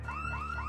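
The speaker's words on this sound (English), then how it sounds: "A building alarm went off" A building alarm blares in a zombie survival game, a loud warbling electronic tone that sweeps up repeatedly in quick cycles, alone and close.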